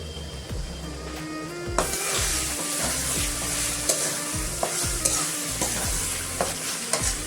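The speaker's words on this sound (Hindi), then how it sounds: "अभी मैं 5 मिनट्स मसाला का साथ कीमा को मैं पकाएंगे" Minced meat (keema) frying with masala in a pan, a steady loud sizzle that jumps up partway through, with repeated scraping and stirring knocks from a spatula against the pan.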